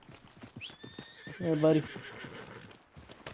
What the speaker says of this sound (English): Alright, come here, horse.